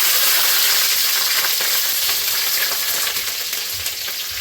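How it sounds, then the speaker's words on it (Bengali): Dry chillies and black cumin crackle and sizzle loudly in hot mustard oil, a bright continuous frying hiss that eases slightly toward the end. "তেল গরম হয়ে গেছে, সর্ষের তেল দিয়েছি, শুকনো লঙ্কা, কালো জিরে দিয়ে দেবো ফোড়নে।"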